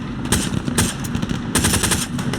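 Machine gun fire in the World War II shooter Hell Let Loose comes in short bursts of rapid shots, with steady background battle noise in between.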